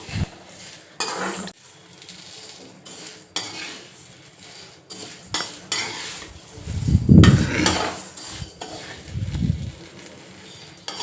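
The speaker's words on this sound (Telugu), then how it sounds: "ఇలాగే కొంచెం మీడియం ఫ్లేమ్లో ఉంచుకొని కొంచెం దోరగా బ్రౌనిష్లో వచ్చేదాకా మినుముల్ని మనం బాగా ఫ్రై చేసుకోవాలి" Urad dal (black gram) frying over medium flame in a kadai, stirred with a metal spoon that clinks and scrapes against the pan in irregular bursts, with a soft sizzle building louder toward the end.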